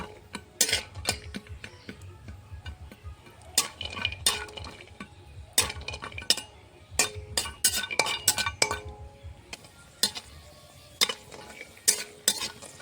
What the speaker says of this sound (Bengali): কাজু আর কাঠবাদামটা ভেজে নেব।